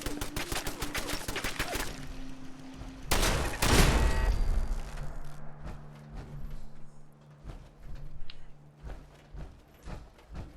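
Automated turrets fire in Fallout 4 survival mode, with rapid gunfire bursts at the start and a louder blast a few seconds in, followed by scattered shots and thumps that trail off.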